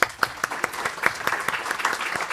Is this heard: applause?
yes